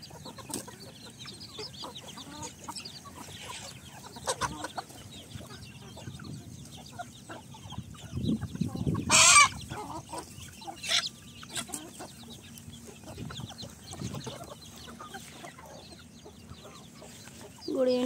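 Hens on a farm cluck steadily nearby in a sunny yard, with overlapping calls, one louder burst from a bird midway, and a faint rooster-like cry, alongside other background farmyard noise.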